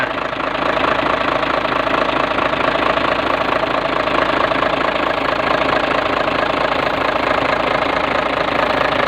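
A Hino J08C diesel engine in a truck tractor unit idles steadily, with a close, loud, rough, knocking chug that continues evenly throughout with no talk.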